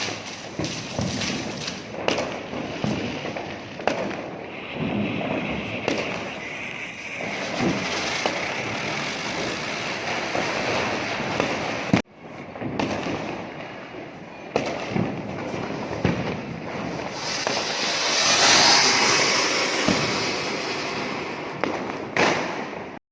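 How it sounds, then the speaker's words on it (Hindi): Diwali firecrackers going off outdoors at night, a dense stretch of sharp bangs and crackles with a steady wash of background noise, briefly cut off midway and then resuming. "देखिए पटाखे कैसे जलाते हैं"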